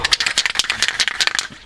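A spray paint can shaken hard during the restoration of a Victorian cast iron fireplace range, its mixing ball rattling in quick, close, uneven bursts with no talk.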